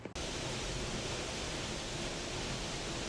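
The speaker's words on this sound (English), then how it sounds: "You see the waterfall?" A steady, loud rush of falling water fills the whole stretch without pause, heard from close behind South Falls at Silver Creek.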